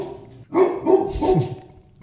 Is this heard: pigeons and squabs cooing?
no